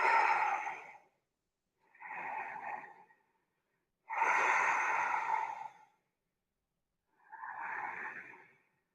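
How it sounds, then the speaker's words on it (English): Four long, deep breaths during a relaxing yoga stretch, each a slow airy exhale lasting one to two seconds, separated by short silent pauses, close and unaccompanied by talk. "Long exhales."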